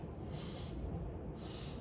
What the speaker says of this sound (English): I'm gonna occlude one nostril and you're gonna sniff.